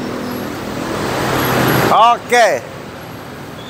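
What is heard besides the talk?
bus passing on road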